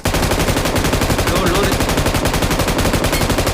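Rapid automatic gunfire in the BGMI mobile battle royale game: a loud, continuous burst of evenly spaced shots that fills the whole moment without a break.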